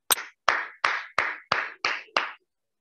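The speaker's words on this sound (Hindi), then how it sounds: "जबरदस्त तालियों के साथ" Seven sharp, separate hand claps at an even, slightly slow rhythm, close and isolated against silence, during a celebration at an event in Varanasi.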